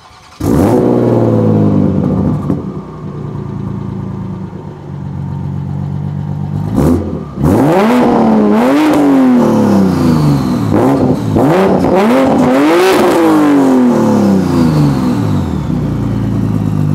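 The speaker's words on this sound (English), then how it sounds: "let's fire it up and then let you guys hear the exhaust." A Toyota MK5 Supra fires up close by and settles into a burbling idle, then its exhaust barks through several sharp revs that rise and fall, each blip loud and distinct against the steady rumble.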